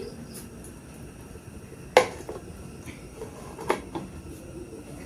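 A metal plate of rice batter is set into a wok for steaming, giving a sharp clank at about two seconds followed by softer scrapes and a smaller knock later, against a quiet kitchen background.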